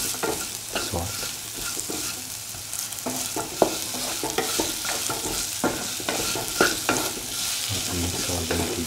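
Bean and carrot stew with added salt being stirred in a pot, a spoon scraping and clinking in steady uneven strokes over a soft continuous sizzle, close and alone without talk.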